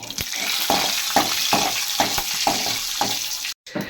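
Whole spices, cinnamon, poppy seeds, fennel, bay leaf, clove and cardamom, splutter in hot oil: a loud, steady frying hiss broken by sharp, regularly spaced pops, cutting out briefly near the end.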